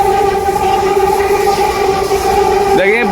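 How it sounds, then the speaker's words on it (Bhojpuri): A Delhi metro train running beside a building gives a loud, steady tonal whine and rumble throughout, with a rising squeal just before the end. "और देखिए मेट्रो आवाज"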